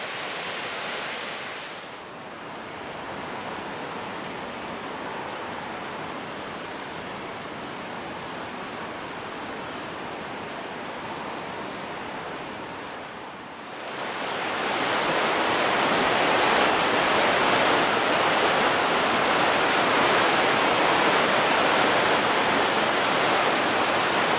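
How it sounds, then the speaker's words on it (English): A thunderous waterfall beside a walking path on Scotland's Rob Roy Way, between Lochearnhead and Killin, roars in a steady, dense rush of water, growing louder and fuller partway through, with no voices. "there were times when I could barely hear myself think because of thunderous waterfalls at the side of the path"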